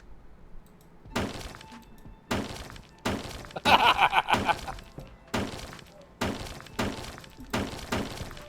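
A crowbar smashes objects in Hotel Renovator, eight or so sharp crashing impacts in a steady rhythm, one with a bright glass shatter, close and loud with short pauses between blows.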